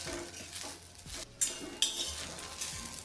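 Okra chutney roasts in a pan over a low flame as a spoon stirs and scrapes, soft sizzling running underneath with a couple of sharper clinks against the pan, quiet and close.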